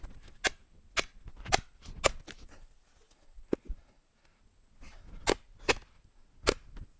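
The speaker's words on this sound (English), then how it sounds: "you'll actually hear the wood split" A short-handled hatchet chops wood one-handed, giving a series of sharp, loud cracks and splits at an irregular rhythm, close up, with quieter knocks and scuffs between blows.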